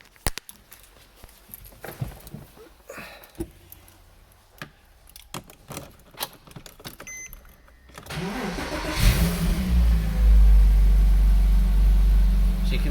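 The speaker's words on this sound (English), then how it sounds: "If I start the car up for you." A Porsche Boxster S cranks and fires up after some jangling keys and interior clicks, its engine catching with a loud surge and then settling into a steady, close rumbling idle.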